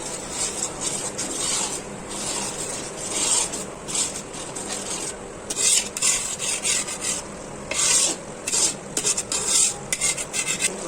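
A spoon stirs fish curry masala in a kadai, scraping and rasping against the metal pan in steady repeated strokes with a faint sizzle underneath, close and continuous, without speech.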